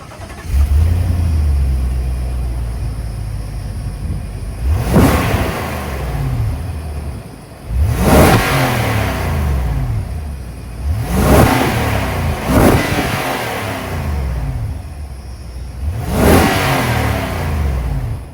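A 2024 Nissan Armada's 5.6 liter V8 engine revs repeatedly, loud and close, with four sharp throttle blips rising over a steady rumbling idle.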